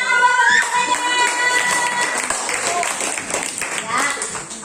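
Students in a classroom clapping for their classmates, a dense patter of many hands mixed with children's voices and chatter, fairly loud and continuous.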